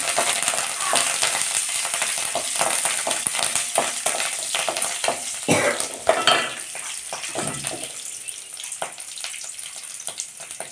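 Curry leaves and lentils frying in oil in a pan for chutney, close crackling sizzle broken by repeated scraping strokes of a spoon, loud and busy before easing off toward the end.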